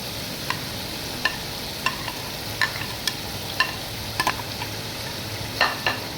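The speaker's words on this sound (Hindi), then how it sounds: "अदरक लहसुन का पेस्ट भी हमारा अच्छे से फ्राई हो चुका है, भून चुका है।" Continuous sizzling and crackling of ginger garlic paste frying in hot oil for mutton karahi, with occasional clinks and scrapes of a spoon stirring the pan, close up.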